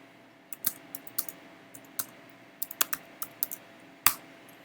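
Typing on a computer keyboard during a test of an Alexa skill built with Python: a run of separate key clicks, quick and irregular, with a few louder strokes, close up and alone without talk.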